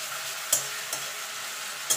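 A spoon stirs coarsely chopped onion frying in a pan, sizzling steadily, with three sharp scraping strokes against the pan.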